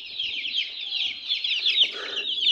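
Lovebird chicks in a nesting box give a dense, continuous high chirping and peeping that runs steadily through the whole stretch, fairly close and busy, with no talking.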